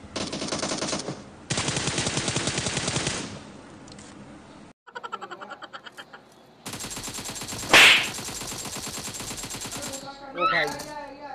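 Rapid automatic gunfire from the battle royale video game PUBG fires in long sustained bursts, broken by short gaps and a sharper crack, loud and close throughout.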